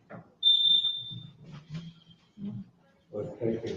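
A faulty smoke detector gives one short, high electronic chirp amid people talking nearby in a meeting room.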